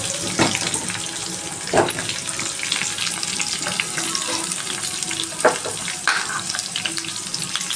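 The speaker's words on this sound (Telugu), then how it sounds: "ఆనియన్స్ సన్నగా కట్ చేసినట్టు ఆనియన్స్, కట్ చేసినట్టు టమాటాస్ కూడా యాడ్ చేద్దామండి." Chopped onions and tomatoes frying in hot oil for a masala paneer dish, a steady broadband sizzle with a few sharp stirring clatters, close and continuous with no talking.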